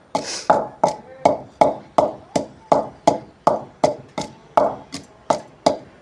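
Steady rhythmic pounding of a pestle in a mortar crushing spices, about sixteen sharp thuds at an even pace, close up.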